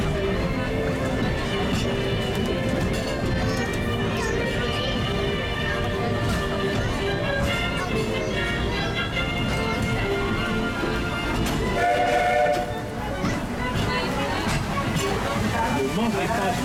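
A Disneyland Paris Railroad train rolls through snow in a continuous loud rumble, mixed with background music and crowd chatter throughout the ride.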